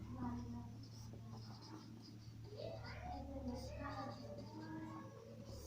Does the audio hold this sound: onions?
no